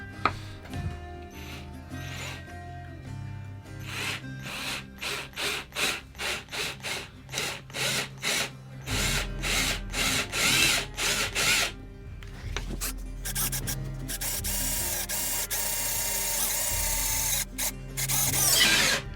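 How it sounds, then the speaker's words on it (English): A power drill bores a hole into a wooden guitar body near the neck pocket, starting as a series of short rhythmic bursts, then running into longer continuous grinding and whirring close up, with no talking. "I like to drill it just off center, from my perspective on my left."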